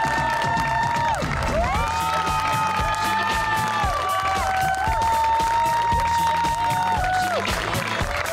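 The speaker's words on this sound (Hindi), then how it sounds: "आइए मेरे साथ तालियों में इस्तकबाल कीजिएगा" A loud crowd cheers and applauds continuously, with shouting voices rising over steady clapping throughout.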